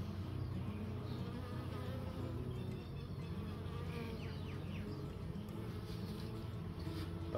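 A honeybee colony in an opened hive gives off a dense, steady buzzing drone, with individual bees flitting close by over the constant hum.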